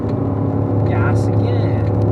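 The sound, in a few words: Corvette engine easing off throttle and braking on track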